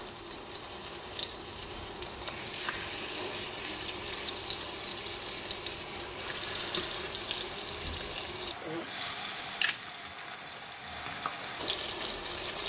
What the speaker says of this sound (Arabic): بون نبداو نحطو الدجاج، خلو يتخلى الزبده والزيت